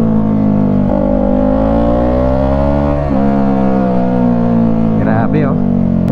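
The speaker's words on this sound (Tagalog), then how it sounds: "Ingay ng motor na to." An FKM 3GP motorcycle fitted with an aftermarket AR underbelly exhaust runs loud and close, a deep, steady droning engine note with slight pitch swells.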